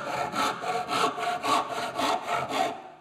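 A 14-inch crosscut saw cuts wood to length in steady, rhythmic strokes, about ten close, loud rasping passes with no talk.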